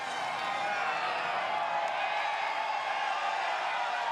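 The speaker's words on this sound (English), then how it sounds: "Listen to the crowd on Boxing Day." Roadside crowd at a Boxing Day UCI Cyclo-cross World Cup race in Gavere, Belgium, a steady distant roar of cheering and whooping from spectators with no clear breaks.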